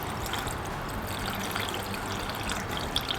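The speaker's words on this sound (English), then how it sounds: "we're going to actually top off the system with more distilled water" Distilled water trickles and pours into the coolant system of a 1990 Nissan 300ZX Turbo, a faint, steady liquid gurgle heard alone and close by.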